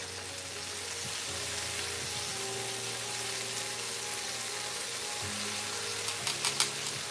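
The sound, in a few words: food sizzling while frying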